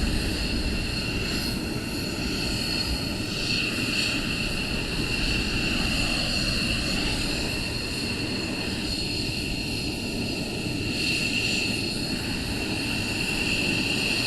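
Military aircraft engines running steadily at RAF Lakenheath before departure, a continuous loud drone with a high whine, heard alone and unbroken throughout.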